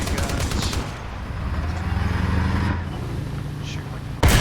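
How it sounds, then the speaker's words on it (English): Rapid bursts of automatic machine-gun fire in the video game War Thunder rattle continuously for several seconds, loud and mechanical, ending with a sharper blast. "I can play around, shoot my machine guns"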